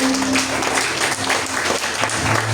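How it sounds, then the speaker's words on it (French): A church congregation at a Sunday service claps steadily for a couple of seconds, a dense, even patter of hands with no pauses. "On va applaudir le Seigneur"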